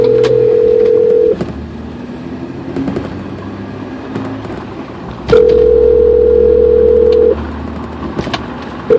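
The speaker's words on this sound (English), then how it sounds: "I'm also got to make a few phone calls to Glenn and Steve and a couple other people" Phone line tones ring out loud and steady as a call is placed, two long sustained tone bursts separated by a quieter stretch of faint clicks and background rumble, with no voices.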